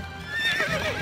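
A single horse whinny from the Stronghold Crusader strategy game, a short rising and falling neigh, clear and alone.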